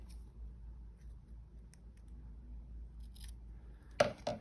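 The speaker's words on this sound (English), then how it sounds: "I'm just trying to cut it in half here" Scissors snip through a sheet of paper, a quiet close cut near the end after a low, faint background hum.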